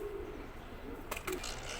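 A pigeon softly cooing among Teddy and Ferozpuri pigeons at a pigeon keeper's loft in Islamabad, a few faint, low murmuring coos over quiet background noise.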